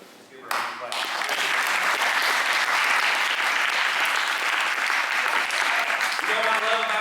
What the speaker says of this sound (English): So let's give her a hand clap.